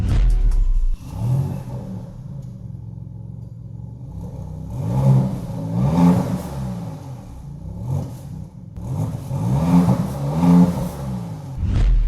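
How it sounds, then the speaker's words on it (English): Maserati MC20 supercar exhaust revving up loudly and close by, with several rising rev bursts and throttle blips over a steady idle rumble. No one talks over it. "we're gonna hear what these exhausts sound like."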